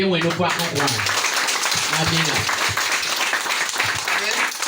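A church congregation at a Sunday service claps and cheers continuously, a dense wash of applause mixed with voices calling out throughout.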